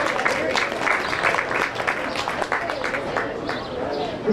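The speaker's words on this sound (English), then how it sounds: "Let's give her a round of applause." Spectators at a county fair swine show applaud in a dense, even patter of clapping that carries for several seconds in an arena, with a few voices murmuring underneath.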